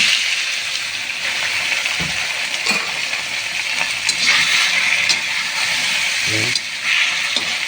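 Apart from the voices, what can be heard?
meat being sautéed in a pan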